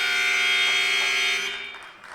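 A loud, steady electronic buzzer sounds at the end of a period in a high school varsity wrestling match, holding for about a second and a half before cutting off into faint room noise.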